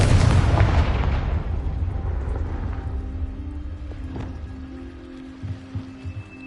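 A loud magical blast from Bombarda and Confringo spells in Hogwarts Legacy booms at the start, then fades into a long rumbling decay with a few small pops near the end.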